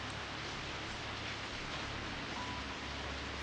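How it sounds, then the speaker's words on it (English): Steady rain ambience from the video game Corpse Party, a soft continuous hiss of falling rain with no distinct drops or other sounds. "It was a rainy evening after school,"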